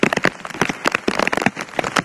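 Rain falling and pattering on a hard surface, dense irregular close taps and splashes over a steady hiss, with no voices.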